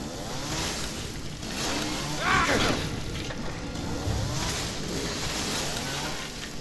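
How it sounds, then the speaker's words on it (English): A chainsaw roars during the final fight against Jack in the horror game Resident Evil 7, its engine revving up and down in wavering surges over a noisy, clattering backdrop. "This is like the worst fucking chainsaw fight ever."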